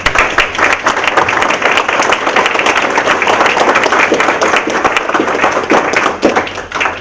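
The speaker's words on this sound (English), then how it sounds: "Please join me in offering a round of applause to all of them." Audience applause at a local candidates event, dense steady clapping from many hands filling the whole stretch at an even loudness, with no voices over it.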